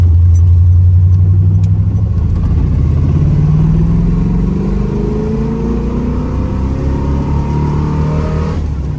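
A restored 1972 Chevrolet Corvette with a 4-speed manual and about 200 horsepower accelerates hard through the gears, its loud, close engine note climbing in pitch, dropping at each shift and rising again, with no talking.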